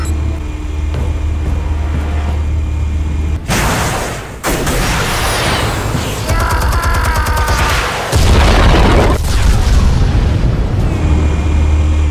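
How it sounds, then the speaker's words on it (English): Explosives going off in a Batman: The Telltale Series cutscene, a heavy blast followed by rumbling debris and crackling, with deep low-end booms under a loud cinematic mix. "Explosives armed. Fire when ready."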